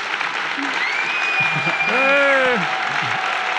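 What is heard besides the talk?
audience applause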